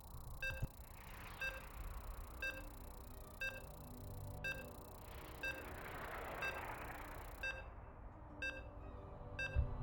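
Short electronic beeps from a StarCraft match starting repeat at an even pace, about one per second, over a low background hum.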